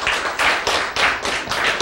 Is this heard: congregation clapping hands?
yes